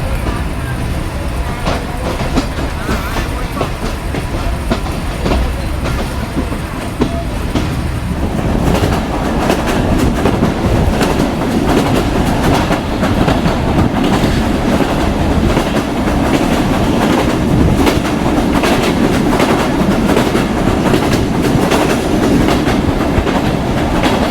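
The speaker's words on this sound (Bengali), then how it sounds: "নপাড়া রেলওয়ে স্টেশনে গিয়ে আমাদের ট্রেনটি লুপ লাইন থেকে মেন লাইনে প্রবেশ করলো" The Mahananda commuter train travelling from Khulna toward Jashore rumbles steadily on the rails, with a constant loud roar and rhythmic clatter heard from inside as it joins the main line, louder after the first few seconds.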